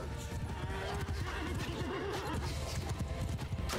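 In the Mount and Blade Bannerlord video game, horses neigh and their hooves clop in a steady galloping rhythm amid a dense battle din, moderately loud and continuous, with no talking.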